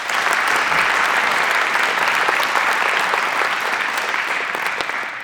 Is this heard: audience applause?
yes